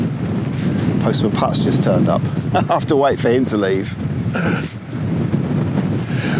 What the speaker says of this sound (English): But it is so windy, it really is, and it's cold.